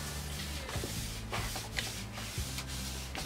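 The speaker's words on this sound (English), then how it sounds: "Give it a good rub down. Make sure you get all the dirt off of it." A towel rubs a snowboard base to clear dirt from it before waxing, giving a steady, close, scratchy rubbing with repeated back-and-forth strokes and soft thumps over a constant low hum.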